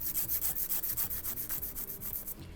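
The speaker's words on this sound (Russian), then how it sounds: "когда я подношу пилку к ногтевой пластине, она автоматически становится под ноготь" A nail file rubbing back and forth against a fingernail while shaping a soft square, a steady run of quick, close, even rasping strokes with no talking.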